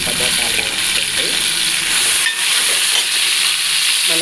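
Tomatoes, curry leaves and green chillies fry in hot oil in a pan, a loud, steady close-up sizzle and hiss with occasional stirring scrapes and faint voices underneath.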